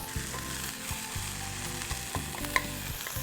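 Bean sprouts stir-frying in a hot pan with a splash of fish sauce, giving a steady close sizzle broken by regular scraping and stirring strokes and a brief clink, with no talking.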